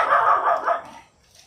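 A small but fierce dog barks loudly and close by in a quick run of sharp yaps, then falls quiet.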